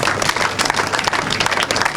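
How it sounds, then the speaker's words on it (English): Crowd claps for an angler at a bream fishing tournament grand final weigh-in, a brief burst of close, busy applause with sharp individual claps standing out, no talk. "Round of applause for Warren."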